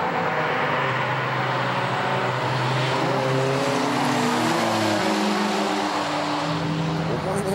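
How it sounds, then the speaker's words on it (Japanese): A V12-swapped Toyota Supra runs with its exhaust split into two six-cylinder pipes, giving a continuous loud engine drone with shifting pitch as the car drives, overlaid by wind and road noise. "だから12気筒なんだけど音はまあ6気筒が2つっていうことで"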